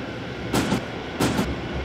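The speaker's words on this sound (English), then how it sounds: "Oh yeah, that's the train sound." A metro train in the horror game IMSCARED rumbles steadily, with two paired bursts of clacking wheels over the rail joints rising above the constant drone.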